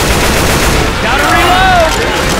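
Rapid continuous video game gunfire, loud and close, a dense automatic burst filling the whole moment with some tonal whine layered over it and a voice faintly mixed underneath.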